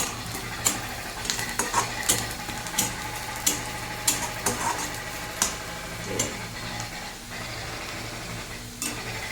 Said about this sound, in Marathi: थोडासा गोल्डन ब्राऊन रंग येईपर्यंत परतून घ्यायचा कांदा.